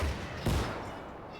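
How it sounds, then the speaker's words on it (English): A 150mm German tank gun fires once in the Gates of Hell video game: a single heavy, close blast with a sharp onset, then a rumbling tail that fades over about a second. "Let's listen to the sound of the gun."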